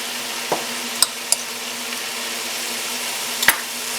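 Butter sizzles in a pan with garlic and leftover juices, a steady close hiss broken by a few sharp clicks of a utensil against the pan.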